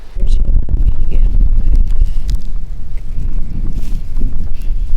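Wind gusting over a small fishing boat out on the water, a loud, continuous low rumble and buffeting that fills the whole clip.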